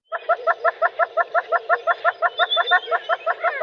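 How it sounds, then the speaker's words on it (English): A yellow-billed hornbill calling in southern Africa, a rapid, evenly paced series of about twenty clucking notes, fairly close and clear against a quiet background. "listen to the yellow-billed hornbill."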